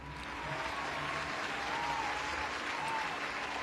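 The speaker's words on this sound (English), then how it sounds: "if you applaud for this guy" An audience applauding during a comedy cooking show, a sustained dense wash of clapping from a crowd that rises early and holds steady for several seconds.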